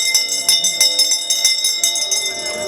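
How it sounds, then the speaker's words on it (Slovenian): A bell rings repeatedly in quick, regular strikes with bright, sustained ringing tones overlapping each other, at a St. Martin's Day wine-christening celebration. "Zvoni."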